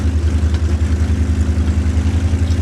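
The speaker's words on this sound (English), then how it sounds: "The bigger tanks, the engine sounds fantastic." A heavy tank engine in World of Tanks gives off a loud, continuous low drone with a gentle pulsing throb, steady throughout with no voices.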